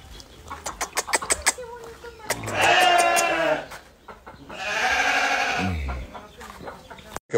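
Sheep on a country quinta bleat in two long, loud, wavering calls, with people talking close by between and around them.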